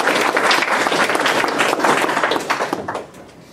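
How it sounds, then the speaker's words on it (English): An audience claps steadily at a university game development club meeting, a dense burst of applause that holds for about three seconds before thinning out and fading. "All right, everybody, give me a round of applause."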